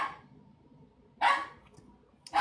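A miniature pinscher barks up close, three sharp, loud yaps spread apart with quiet gaps between them.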